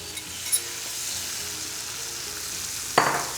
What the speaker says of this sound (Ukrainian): Смажимо 2 хвилини.